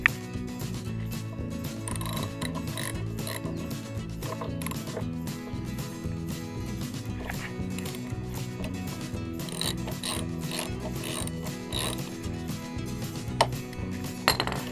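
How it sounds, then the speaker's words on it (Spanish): A socket ratchet works a brake caliper bolt loose on a Honda CBR 600 RR motorcycle, quick clicking pawl ratchets and metallic tool clinks sounding close and steady throughout, with no talk. "Ahora con nuestro dado vamos a aflojar esta parte."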